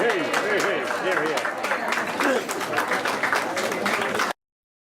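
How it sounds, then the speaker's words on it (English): Audience applause at a talk event, dense and steady clapping from a crowd close by, with voices calling out over it until it cuts off abruptly near the end. "An amazing group and worthy of applause."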